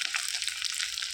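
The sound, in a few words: dried fish frying in oil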